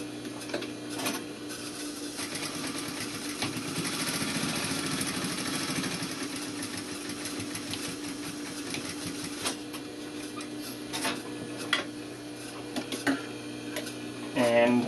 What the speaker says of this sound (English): Start with back tack, sew the whole length of that line,